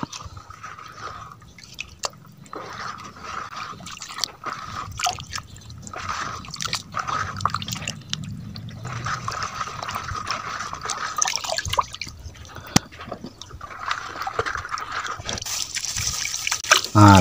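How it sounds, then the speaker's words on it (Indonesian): Compost ingredients, including two handfuls of stale rice, being stirred together in a bucket, giving wet squelching, dripping and scraping sounds that run steadily and close throughout. "Lalu tiga bahan ini kita aduk sobat."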